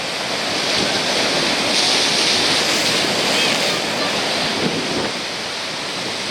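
Ocean waves break on the shore in Brittany, a loud, continuous roar of surf with a swelling crash through the middle, mixed with wind buffeting the microphone and no voices.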